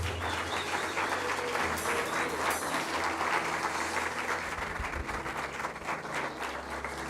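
A church congregation claps in applause for the Lord during a Spanish-language sermon, a continuous, full round of hand-clapping that holds steady from start to finish, with a low hum beneath it.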